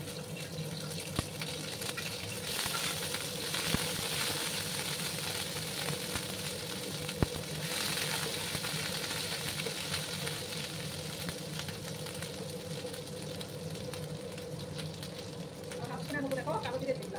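Ginger garlic paste frying in oil with black cumin seeds in a pan, a steady broadband hiss and crackle running throughout, fairly loud and continuous, for a Bengali doi tangra fish dish.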